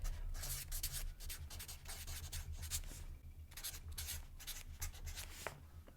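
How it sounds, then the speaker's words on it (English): A marker pen scratches and rubs across a paper planner in short, quick strokes, faint and close, with brief pauses between letters. "let me get my trusty marker, and I'm going to write February"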